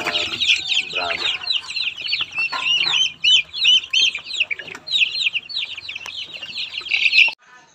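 Rhode Island Red chickens crossed with Brahma cluck and chatter continuously as a flock, with busy overlapping calls close by and some background noise in a farm setting.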